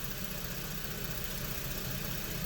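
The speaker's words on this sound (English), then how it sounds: "now it looks like the blower's running" A car heater blower powered through an inverter runs as a steady, dense whooshing drone with a low engine-like rumble beneath, continuous and unchanging, heard close with no voices.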